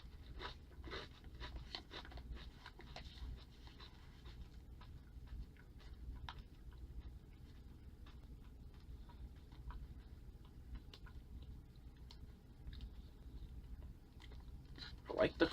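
Crunchy Laiki red rice crackers are chewed close to the mic, producing a steady run of soft, crisp crunches and bites at a low level over a faint background.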